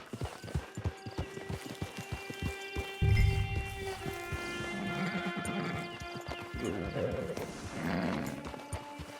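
Horse in Red Dead Online clip-clopping along at a walk, then snorting and giving a short whinny, with a person talking at points.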